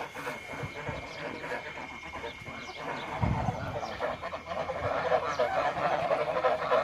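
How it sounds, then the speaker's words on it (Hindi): On a village cattle farm, ducks quack and honk steadily as a noisy flock, with the calls growing denser and louder toward the end over a busy outdoor background. "ये बतखों ने शोर मचाया हुआ है।"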